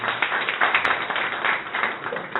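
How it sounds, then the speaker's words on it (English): An audience at a coworking-space pitch and networking event applauds the hosts, with a steady wash of many hands clapping at moderate volume and no speech over it. "big applause for Emil Shekerjitsky and Trifon Mikhailov, which are the hosts of this event"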